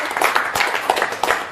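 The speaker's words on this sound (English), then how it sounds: "the applause is not for me" An audience applauds a performer on stage, a steady broadband wash of many hands clapping at close range that carries on without a break through the whole moment.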